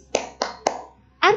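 Three sharp, evenly spaced hand claps from a classroom clapping chant used in a Qur'an lesson on Surah An-Nas, close and clear, followed by a voice starting to speak.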